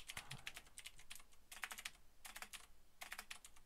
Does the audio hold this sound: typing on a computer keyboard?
yes